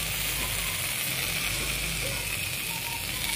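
Chicken frying with ginger garlic paste in a pan for a tomato chicken curry, a dense continuous sizzle with faint clicking and stirring, close and steady.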